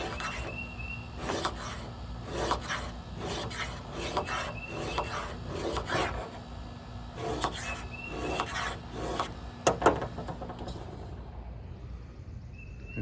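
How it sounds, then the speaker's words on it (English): A Mora Companion stainless knife spine dragged repeatedly across a sharpener to raise a burr, giving a series of close, rhythmic rasping strokes that stop near the end, with no talking. "Let me show you how I put an edge back on the spine after the initial grinding. Drag back about 10 times and then feel for a burr."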